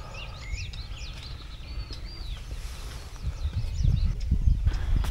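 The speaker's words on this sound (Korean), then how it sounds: "새소리 정말 좋네요" Small birds chirp and trill repeatedly at dawn on the Dalmago trail along Dalmasan mountain, bright calls over a steady wind-like rumble and rustling, with footsteps or movement growing louder toward the end.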